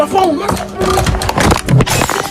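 A phone dropping and shattering, a sharp crack and breaking sound amid excited voices talking and reacting loudly up close.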